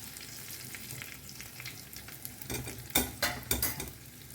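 Dried red chillies drop into hot oil with browned garlic for a tempering, a soft steady sizzle that flares into several louder crackling bursts near the end, with a few utensil clinks and no talk.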